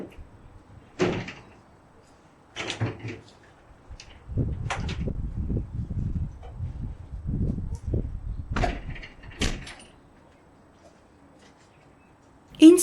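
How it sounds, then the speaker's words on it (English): Greenhouse cupboard doors are opened with a series of knocks, clunks and scraping handling noises, close and moderately loud, followed by quieter pauses. "I head over to the greenhouse cupboard and open the doors."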